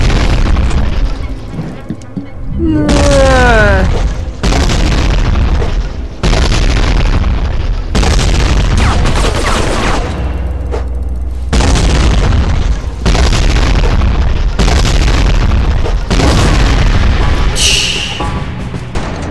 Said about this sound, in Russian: Туда и гранату все накидать в респаун.